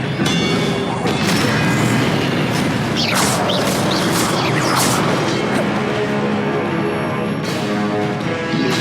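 Spell blasts in Hogwarts Legacy on PS4 land as loud booming explosions with crashing, crackling debris and rumbling, one after another in a dense, sustained barrage.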